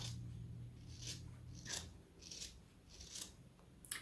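Several crisp scissor snips cutting a paper circle, one after another in an uneven rhythm, close and fairly quiet.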